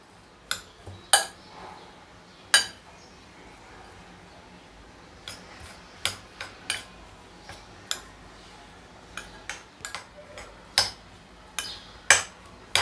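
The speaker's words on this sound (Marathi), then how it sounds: "आता हे सगळं आपल्याला छान असं मिक्स करून घ्यायचं आहे" Gram flour batter being stirred with green chili, garlic and coriander paste in a bowl, a spoon giving irregular light clinks and taps against the side over a quiet background.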